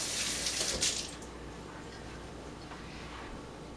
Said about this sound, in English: So let me rinse my hands here real quickly